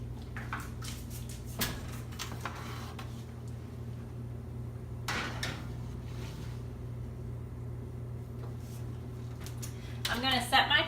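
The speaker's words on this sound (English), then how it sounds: "So I'm going to go ahead and put this in the oven." A baking sheet holding a ham and cheese quiche goes into an oven preheated to 425 degrees. Sharp metallic clanks and knocks ring out a few times over a low, steady hum, with a busier clatter at the end.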